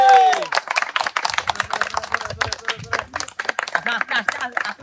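A small group claps fast and unevenly during a soap-rubbing contest, sharp hand claps tumbling over one another with voices mixed in.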